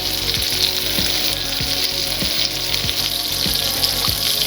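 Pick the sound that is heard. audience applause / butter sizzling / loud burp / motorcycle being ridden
butter sizzling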